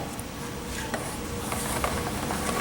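Ratcheting torque wrench tightening muffler fasteners during small engine assembly, a quick series of close clicking ratchet pawl sounds over steady background noise.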